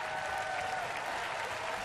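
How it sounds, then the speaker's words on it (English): Steady, dense applause from a church audience at an Easter production fills the space evenly at moderate loudness, with no voices standing out. "let's stand up and give them a big hand of applause"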